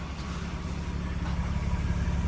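A BMW 325iT wagon idles with a steady low exhaust rumble. It sits close and runs evenly with no talk over it.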